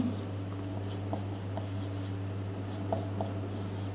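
Marker or chalk strokes writing points on a classroom board during a physics lesson, soft scratchy taps in short bursts over a steady low electrical hum, with no voice.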